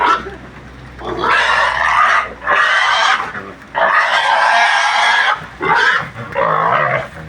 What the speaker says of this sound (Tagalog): maski umuulan, nanguhuli kami ng baboy